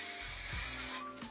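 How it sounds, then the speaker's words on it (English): Hairspray from an aerosol can sprayed onto hair extensions, a steady close hiss lasting about a second before tapering off. "I'm gonna just grab my hairspray here"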